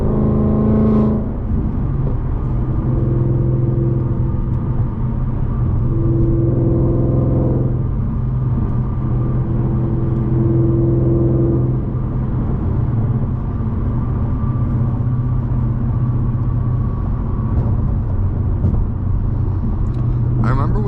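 An 800-horsepower 2025 Ford Mustang GT cruises in the evening, its engine giving a loud, steady low rumble with brief revs rising and falling. Someone talks over it throughout.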